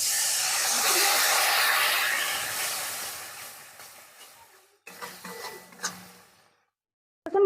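Water splashed into frying spice paste sets off a loud, broad hiss of steam that dies away over several seconds, followed by a few clanks and stirring sounds in the pan.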